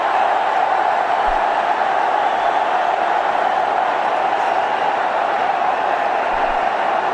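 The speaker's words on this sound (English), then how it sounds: "The crowd is really enjoying." Dense, steady roar of a cricket stadium crowd cheering during Rohit Sharma's innings, a continuous wash of voices without clear peaks, loud and far-spread throughout.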